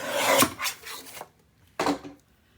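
Paper being trimmed for a 9 x 9 mini album panel, two bursts of close rasping cuts, the first longer with a few strokes and a second short one after a pause, with no voices.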